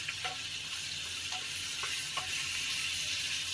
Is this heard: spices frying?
yes